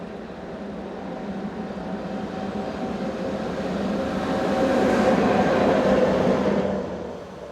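Train hauled by 1144 class electric locomotives passing eastbound, a broad steady rumble and rolling hum that swells toward the middle and eases off near the end, heard alone without voices.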